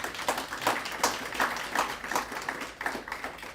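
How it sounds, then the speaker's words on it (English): Audience applause following a talk, rhythmic clapping at moderate, fairly steady level with no speech over it. "Another round of applause for Dr. Kengor."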